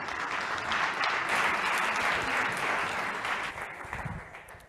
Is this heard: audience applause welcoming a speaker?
yes